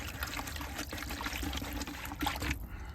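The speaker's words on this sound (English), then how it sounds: "I'm opting to pour that lot in the water and mix it in the water before I add it to the bucket" Groundbait mix poured into river water beside the River Trent, a steady close trickling and splashing stream of liquid with brief gurgling spurts, heard alone with no talk.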